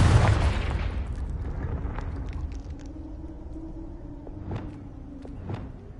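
The Confringo fire spell in Hogwarts Legacy bursts with a loud close explosion that rumbles and decays over several seconds, with a few faint pops and thuds trailing after.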